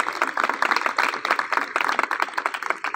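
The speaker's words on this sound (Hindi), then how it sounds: "उन बच्चों के लिए मेरी तरफ से क्लैपिंग हो जाए जो बच्चे वापस आए" A crowd claps for children at a speech event held by a district sports wing in Islamabad: dense, fast, mid-loud applause that swells and ebbs unevenly for the whole stretch.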